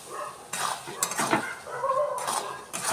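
A spice paste is stirred and sautéed in a metal pan with a little water, giving a few distinct scraping and clinking strokes of a utensil against the pan over a soft background, with no talking.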